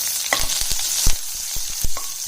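Onions frying in a pan are stirred with quick scraping strokes over a soft constant sizzle, close and alone, the clacks coming in an irregular rhythm.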